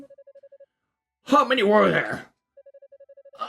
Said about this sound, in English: Oh, wait, that's my phone.